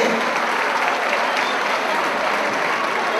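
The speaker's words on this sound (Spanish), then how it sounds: "El aplauso, el aplauso, joven Ángel Rebelde." Steady, dense audience applause fills a concert hall during a tribute show for a rock band, loud and continuous with crowd noise throughout.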